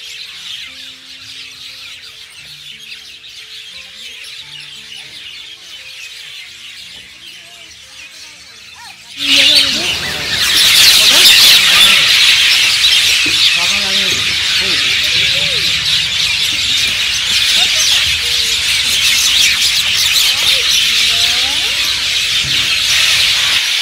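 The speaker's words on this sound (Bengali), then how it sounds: "এত পাখির আওয়াজ" A person talks at first, then a loud, dense chorus of many birds calling at sunset on Sobuj Dweep, an island near Kolkata, rises suddenly and fills the rest with continuous squeals and chirps.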